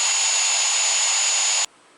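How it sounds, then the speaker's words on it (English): A power drill whirs steadily while boring into a PVC toilet flange, holding one high, even whine for over a second and a half before cutting off abruptly. "Using a power drill to drive in the screws will make this job a lot easier."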